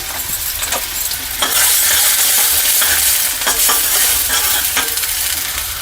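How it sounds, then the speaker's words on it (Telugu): Chopped onions sizzle loudly in hot oil in a pan for a Telugu palak keema curry, with a constant crackling hiss broken by several scraping stirs of a spoon, close and without speech. "ఉల్లిగడ్డలు వేసుకుందాము ఈ ఉల్లిగడ్డలు కొంచెం వేగాల మనకి"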